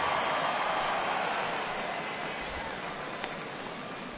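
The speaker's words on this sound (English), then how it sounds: "as the rain continues to fall here" Steady rain falls over a baseball stadium during a live MLB game, a dense, even hiss that fills the whole stretch with little change in loudness.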